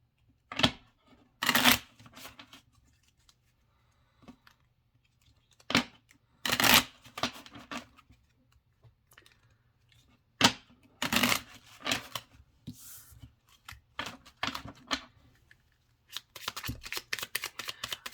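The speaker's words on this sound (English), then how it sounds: "they do shuffle nicely." A new Bluebird Lenormand card deck is shuffled repeatedly in quick riffling bursts separated by short pauses, close and crisp, with a faster flurry at the end.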